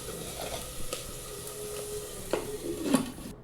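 Pounded ginger and garlic frying in oil, a soft steady sizzle with a few stirring scrapes and spoon knocks against the pan near the end, fairly quiet and close.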